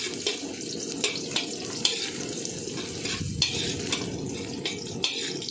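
Chopped onions sizzle and fry in a pan for Bicol-style pancit bato, a steady close crackle broken by repeated metal utensil scrapes and stirs against the pan.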